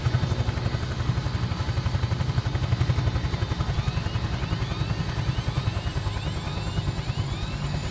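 Huey helicopter in Microsoft Flight Simulator during autorotation, a loud, steady, fast rotor thump over engine drone throughout, with faint rising tones near the end.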